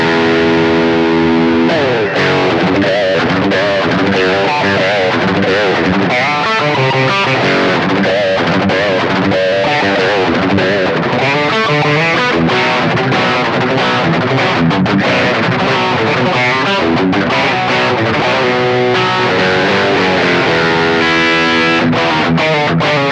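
Distorted electric guitar through a Laney Mini practice amp, loud and continuous, with fast riffs and strummed chords played without pause.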